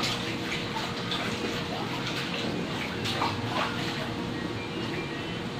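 Running tap water pouring over fruit being washed for a Christmas fruit salad, a continuous close splashing gush with small shifts as the fruit is handled under the stream.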